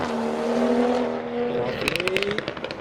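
A Toyota Supra at a drive-by car show rolls past with a rising engine note and a short revving burst near the end, heard fairly close with no talk.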